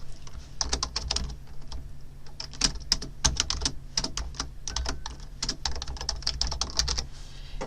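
Rapid typing on a computer keyboard while building an Access database form, with dense bursts of crisp key clicks and short pauses, close and steady throughout with no talking.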